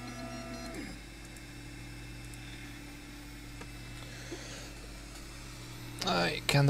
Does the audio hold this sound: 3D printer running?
yes